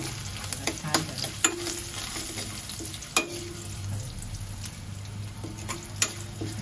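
Garlic, ajwain and asafoetida fry in oil, a close, steady sizzle with a faint hum beneath and scattered sharp clicks and taps of a spoon against the pan.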